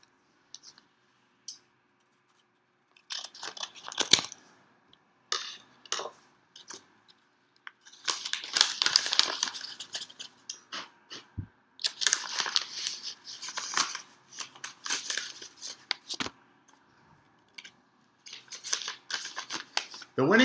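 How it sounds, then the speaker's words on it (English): A hermetically sealed envelope is cut and torn open with scissors, giving bursts of snipping, crinkling paper and clicks separated by short quiet gaps. "I'm going to open the envelope that's been hermetically sealed, show you the winning number"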